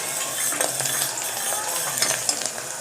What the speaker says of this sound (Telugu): ఇప్పుడు ఆయిల్ వేసినానుకో సౌండ్ వస్తుంది